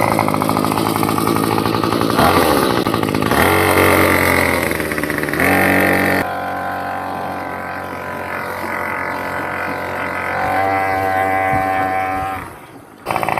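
Two-stroke engine on a giant homemade RC jeep, loud and close, buzzing and revving with rising and falling pitch, then settling into a steadier drone before cutting off near the end.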